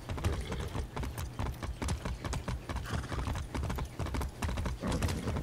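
Horse hooves clip-clop in a steady trotting rhythm in Far Cry 6, crisp and close, with a brief whinny-like tone and light ambient game sound beneath.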